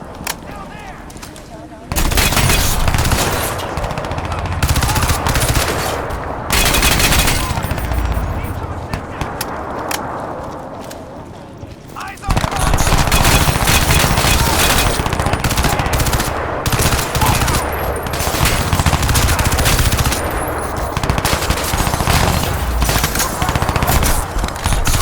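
Sustained automatic weapon fire in the shooter game Crysis 2, loud, near bursts rattling on and off, with a short lull near the middle before heavy firing resumes amid battle ambience and faint voices.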